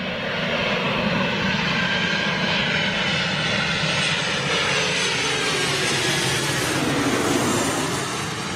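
A Helvetic ERJ jet landing and braking hard at London City airport, a loud, continuous roar of engines and reverse thrust held throughout.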